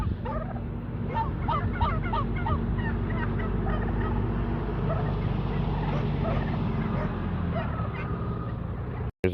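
A large flock of turkeys at a turkey farm keeps up a busy chorus of overlapping gobbles and honking calls over a steady low rumble, then it cuts off abruptly.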